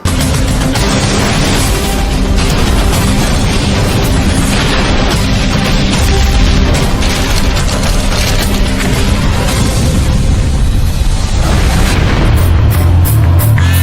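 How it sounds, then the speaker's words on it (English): A seaplane crashing on takeoff in Alaska, a loud continuous roar of engine and impact noise with a heavy boom-like rumble filling the whole stretch, close and dense throughout. "A seaplane in Alaska crashes while taking off, just feet from an amateur cameraman."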